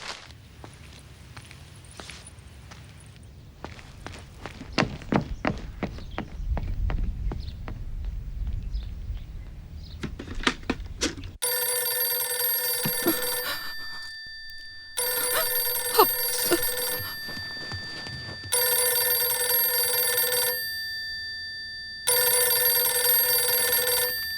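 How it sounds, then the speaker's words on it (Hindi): A telephone rings in four loud electronic bursts separated by short pauses, following a stretch of scattered footsteps and faint knocks, with no voices. "अरे फोन उठाओ माँ"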